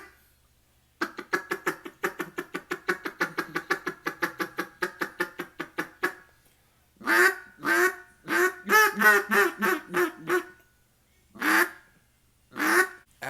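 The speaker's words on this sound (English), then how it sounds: "As y'all heard, that duck call is very, very quiet." An old wooden duck call blown softly by a hunter, first a fast, even string of quacks, then a pause and several slower, drawn-out quacks and single calls, near and clear against quiet.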